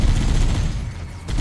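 Loud, dense burst of automatic machine gun fire in the Halo: Combat Evolved video game, a continuous rapid rattle with no pauses over its short span.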